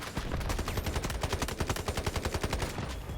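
Rapid automatic fire from an M7 rifle in the shooter game Delta Force, a fast, loud, evenly spaced burst of shots that runs the whole time.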